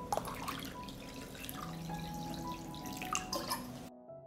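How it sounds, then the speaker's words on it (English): Hot water poured into a deep pot holding glass jars on a cloth, a steady splashing flow with small drips and gurgles, close and continuous until it stops abruptly. "I pour hot water into the pot."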